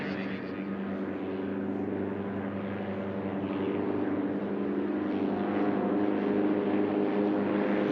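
Light propeller planes, a Legend Cub and a Husky, race at the National Championship Air Races, their engines a steady, rough droning roar at moderate distance, continuous without a break, with announcer commentary over the top.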